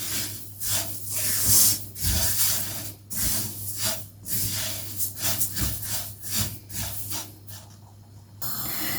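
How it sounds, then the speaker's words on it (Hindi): Sesame seeds dry roasting in a pan over a low flame give a steady hissing crackle with irregular sizzling bursts and soft scraping, fairly close, with no talking. "तिल उधर मेरे रोस्ट हो रहे हैं"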